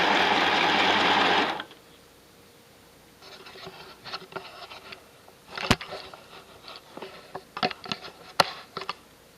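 A sewing machine joins rag rug strips for weaving, running in a loud, close, steady burst that stops abruptly, followed by quiet handling clicks and rustles of fabric.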